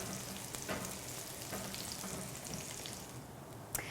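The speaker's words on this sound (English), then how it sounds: "the trick to browning these is to not go crazy stirring them" Aromatics browning in a pan before napa cabbage is braised, giving a faint, even sizzle with a few soft stirring clicks and one sharper tap near the end.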